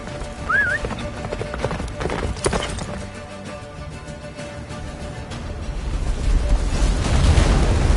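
Roach, a horse in The Witcher 3, gallops with steady clip-clop hoofbeats beneath a game soundtrack, with rumbling blasts and a swelling din building toward the end.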